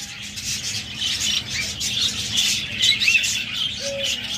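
Red-eyed pet birds sold in pairs in a bird shop, with budgerigars, doves and lovebirds about, give continuous busy chirps and soft calls, several birds at once at moderate loudness.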